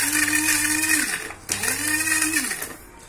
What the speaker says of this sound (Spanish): Cogemos nuestros ajos, primero va a hacer mucha cantidad, vamos a moler unos pocos y después vamos a moler el resto.